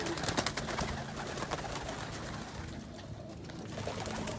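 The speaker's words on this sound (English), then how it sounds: "But here's some birds inside the fly pen. Some homers." Homing pigeons in a loft fly pen make soft, low cooing amid fluttering and shuffling, a busy close texture of bird sounds with no talking.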